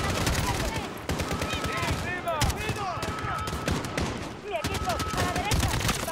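Rapid bursts of gunfire in Call of Duty: Modern Warfare (2019) crackle nonstop, loud and close, with brief pauses between volleys and whining ricochet-like tones.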